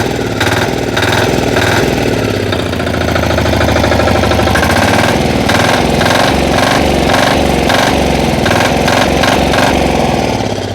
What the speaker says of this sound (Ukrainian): Тепер послухайте, як і подивіться, як відгукується двигун